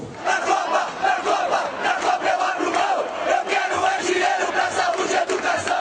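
A large crowd of protesters at a street demonstration in Brazil roars and chants continuously, a dense sustained mass of voices with shouts rising out of it.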